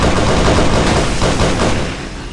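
Rapid gunfire in a video game, loud and dense bursts of automatic shots overlapping continuously, fading slightly in the final moments.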